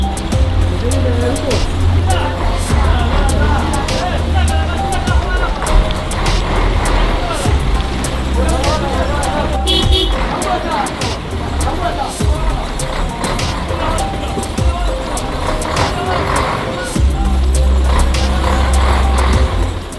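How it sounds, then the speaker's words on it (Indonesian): Vehicle engines rumble and churn as cars and trucks try to pass one another on a damaged mountain road, a continuous close roar with someone talking over it throughout. "Sementara kendaraan mencoba untuk lewat, salah satu dari kendaraan tersebut mundur dan mencari tempat untuk menepi agar bisa memberi jalan."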